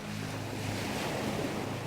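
Ocean waves wash in with a steady broad hiss of surf, wind noise mixed in, faint and continuous throughout.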